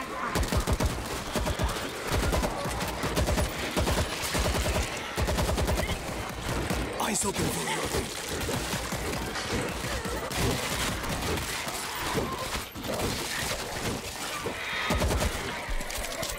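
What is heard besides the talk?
gunfire in World War Z video game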